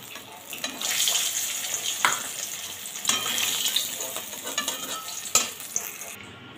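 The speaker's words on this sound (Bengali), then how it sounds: "মুড়োগুলোকে ভালো করে ভেজে নেব" Fish heads frying in a wok for a Bengali taro-leaf dish, a steady close crackling sizzle with scraping stir strokes and a few sharp clanks against the pan, no talk.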